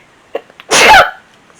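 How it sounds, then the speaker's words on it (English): One loud, close sneeze from a woman who is sewing quilt binding, with a quick intake of breath just before it, then quiet. "I'm about to sneeze."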